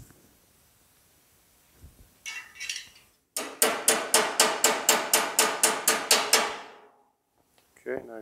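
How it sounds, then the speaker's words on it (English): Steel wire is hammered over box tubing to shape a scratch-built car body frame: about a dozen quick, evenly spaced ringing metallic blows, preceded by a few scattered knocks and clatters. "anything that has an open mouth, if you will, that I can hammer over will create the form I need."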